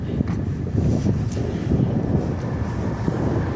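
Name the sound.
wind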